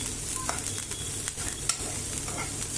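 Onions and green chillies fry in a pan with a steady, close sizzle, broken by brief scraping stirs and soft clicks, and no voices over it.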